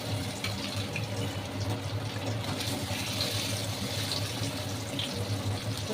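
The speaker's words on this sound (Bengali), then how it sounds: "এই আবার হাত ধুলাম" Running tap water splashing steadily into a sink as hands are washed during fish preparation, a constant close rush with no pauses.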